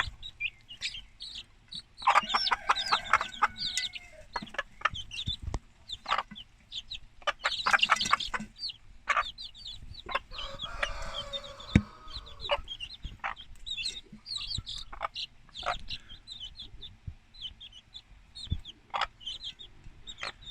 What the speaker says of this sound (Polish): Zacznijmy od najstarszych kurczaków, które się trochę jednak boją.